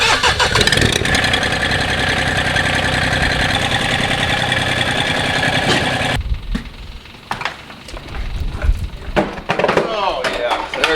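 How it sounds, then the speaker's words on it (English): A tractor engine runs loud and close with a steady, rough rumble for about six seconds, then cuts off abruptly, leaving scattered clunks and handling noises. "Gonna need that tractor."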